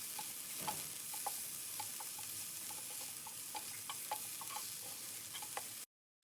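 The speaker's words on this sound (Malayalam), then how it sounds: "ഈ സവാള നന്നായിട്ടൊന്ന് വഴറ്റിയെടുക്കാൻ പോവുകയാണ്" Onions sautéing with crushed ginger-garlic in a pan, a steady close sizzle broken by scattered light clicks of stirring, continuous until it cuts off abruptly near the end.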